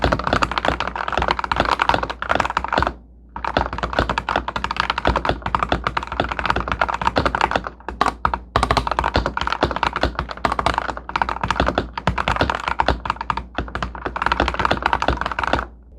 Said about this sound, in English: Here's what the typing sounds like.